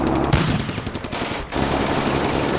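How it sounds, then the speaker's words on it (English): Rapid machine-gun bursts from a German half-track and mortar fire crackle loudly in the Combat Mission: Barbarossa war game, dense overlapping gunfire with a brief dip before resuming. "Now they're starting to actually open fire there with the half-track."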